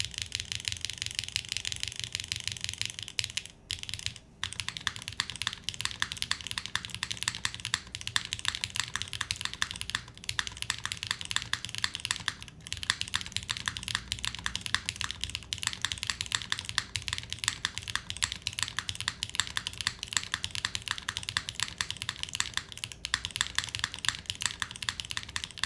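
Continuous mechanical keyboard typing on KTT Rose switches mounted on an aluminium plate with O-rings in a glass case, steady close-up keystroke clatter for the whole stretch with a few brief pauses, no talking.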